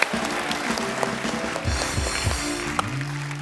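A studio audience at The Kapil Sharma Show claps in dense, continuous applause, loud and close, with a few faint voices mixed in.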